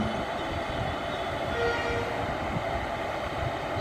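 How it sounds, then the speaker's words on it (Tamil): An electric passenger train sits at a local station and releases its brakes before departing, giving a steady, loud, broadband hiss and rumble that holds evenly throughout with no voices. "பிரேக் ரிலீஸ் பண்ணுறாங்க ஸ்டார்ட் ஆகிறதுக்கு ரெடி ஆகிடுது"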